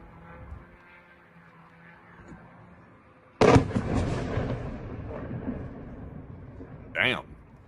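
A Ukrainian drone strike in Voronezh sets off a sudden loud blast that rolls into a rumbling tail, followed a few seconds later by a second, sharper distant bang.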